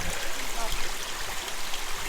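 Rushing water from a waterfall stream being walked up through fills the scene with a steady, close splashing roar.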